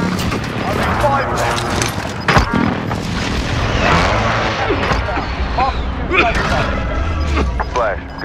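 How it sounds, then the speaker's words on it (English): Air strike explosions in a video game: heavy booming blasts and crashes rumble in a dense, continuous barrage, with a sharp impact near the middle, while a voice talks over the noise. "Requesting close air support. This is Striker 3-1, good copy. Strike inbound."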